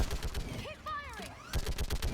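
Gunfire during a firefight at a barricade in the Mass Effect video game, bursts of shots at the start and again near the end, with a curving whistling effect between them and loud battle noise throughout.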